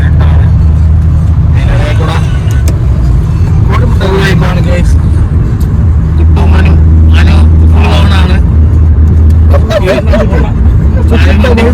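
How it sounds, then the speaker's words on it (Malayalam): Car driving along a straight road, with a steady loud low engine and road rumble running throughout while people talk inside the vehicle. "നമ്മളിങ്ങനെ വണ്ടി സ്റ്റാർട്ട് ചെയ്ത് ഇങ്ങനെ പോവാണ്"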